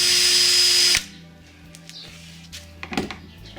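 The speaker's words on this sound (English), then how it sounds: "drill the next hole." A power drill whines loudly for about a second, drilling a hole in a kayak to fit an anchor trolley pulley, then stops, leaving quiet background with faint bird chirps and small handling knocks.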